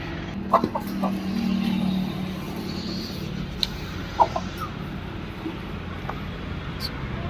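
A few scattered, soft clucks and short chicken calls from country-breed chickens over a steady low outdoor hum, with brief sharper peeps here and there.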